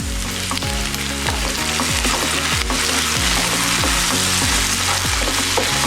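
Onion and tomato frying together for a tomato kuruma, a steady close sizzle broken by a regular run of spatula strokes across the pan, with no voices.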